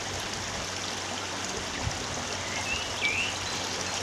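The River Colne flows under a bridge on a country walk, a continuous soft trickling rush of moving water with a faint bird call near the end and no talk.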